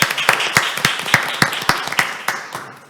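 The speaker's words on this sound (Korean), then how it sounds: "큰 박수로 맞아주시기 바랍니다." Sparse applause greets a speaker at a Korean panel discussion on children's recovery after COVID-19, a few distinct claps ringing out in an irregular rhythm at moderate level and fading away.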